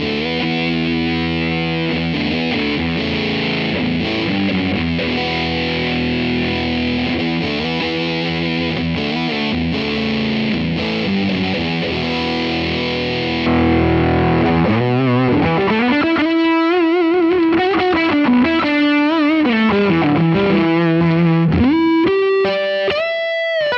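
Electric guitar through a fuzz model on a Fractal FM9 processor, emulating a Cornish-style fuzz: thick, saturated chords followed by a gritty single-note lead line, loud, steady and close with no talking.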